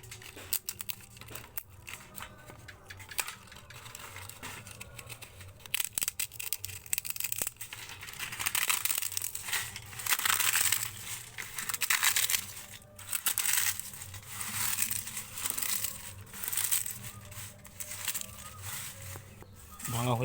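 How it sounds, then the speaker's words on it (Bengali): Crisp papad lentil wafers snapped and broken by hand give a long run of dry crackling and brittle snaps, dense and irregular, close and fairly quiet, growing busier midway. "এরপর পাঁপড়গুলোকে এইভাবে ভেঙে নেব।"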